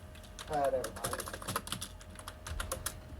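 Rapid typing on a computer keyboard during a World of Tanks Blitz game, a dense run of quick close clicks and taps, with brief game sounds mixed in.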